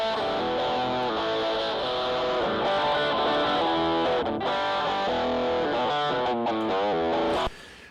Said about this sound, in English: If you have those nasty guitar harmonics, like this